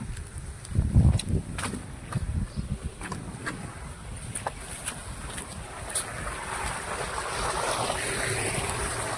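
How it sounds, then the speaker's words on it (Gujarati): Water rushing from a farm irrigation valve that has just been opened, a continuous broad, noisy flow mixed with some wind buffeting. "જો આ વાલ આપણો ચાલુ થઈ ગયો પાણીનો"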